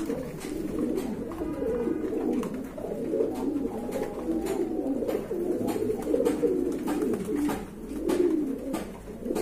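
Pigeons coo steadily at a large pigeon collection offered for sale, a dense overlapping chorus of low cooing birds close by with no speech.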